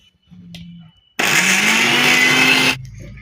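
An electric mixer grinder blitzes coriander leaves and green chillies into a paste in one loud whirring burst of about a second and a half, after a few faint clicks and before quiet returns.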